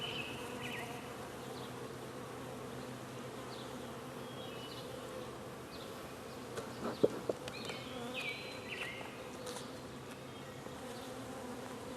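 Honey bees buzz steadily at an open hive during an inspection, a dense continuous hum with individual bees droning close by, plus a faint click partway through.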